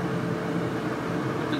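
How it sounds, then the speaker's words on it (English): A household clothes dryer runs with a steady, even whir and rumble of motor and airflow, close by and constant throughout with no talking. "So pardon the noise, we're actually going to turn the dryer on."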